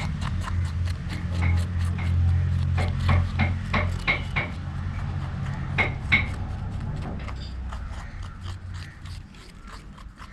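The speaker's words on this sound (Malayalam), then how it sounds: "ചോക്ക് പൊടി എടുത്തിട്ട് ഇതിനെ കുറച്ച് ചോക്ക് പൊടി ഇട്ട് ഇങ്ങനെ മിക്സ് ചെയ്യണം" Chalk powder stirred by hand into resin for fibreglass parts, heard as a rhythmic run of scraping, rubbing strokes against a container under a low steady hum.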